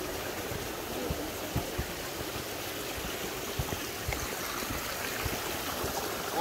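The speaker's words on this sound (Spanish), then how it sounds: "Estamos llegando a la cascada." Steady broadband rush of falling water, a constant roar with a few faint knocks on top, no voices.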